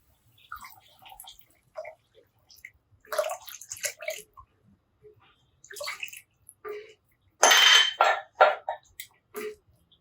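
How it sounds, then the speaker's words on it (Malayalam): Water pours into a pan for Kerala-style coconut fish curry in several separate bursts, splashing and gurgling between quiet pauses, with one longer, louder pour near the end. "ഇനി വെള്ളം ഒഴിച്ചു കൊടുക്കാം"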